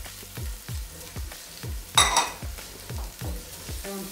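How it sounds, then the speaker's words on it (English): Red chili powder, salt and coriander powder cook in a pan while a spoon stirs them in rhythmic scraping strokes, with a light sizzle and a sharp metallic clink near the middle, close up and without talk. "let those ingredients cook until you put the next ones in"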